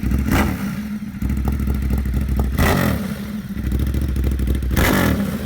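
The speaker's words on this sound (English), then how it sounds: "Or maybe one of the older Ducati Monsters that sounds like this." An older Ducati Monster V-twin motorcycle revs hard three times over a loud, lumpy idle, each burst swelling and falling back, with dry clutch-like clatter running throughout and no voices.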